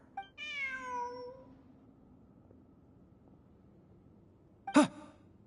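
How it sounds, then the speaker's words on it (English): A cat meows in the video game Genshin Impact, giving a drawn-out, clearly voiced call near the start over a quiet ambient game background, followed later by a short sharp effect sound. "Look, a cat."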